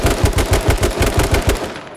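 Automatic gunfire in a shooter video game rattles out in rapid, evenly spaced loud shots for about two seconds, with no talking over it.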